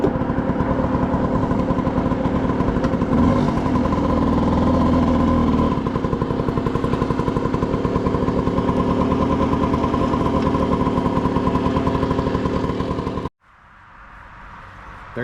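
A rebuilt Serveta Jet 200 scooter engine runs steadily on a test ride, a loud, even two-stroke buzz with rattly clatter that holds for about thirteen seconds before cutting off abruptly into near quiet.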